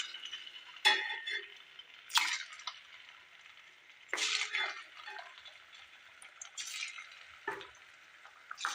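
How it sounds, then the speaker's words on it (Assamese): Assamese pitha cakes frying in a pan give a soft, steady sizzle, broken by several louder scraping and clinking bursts from the utensil. "এতিয়া মই দ্বিতীয় পিঠাকেইটাও একেদৰে ভাজি ল'ম"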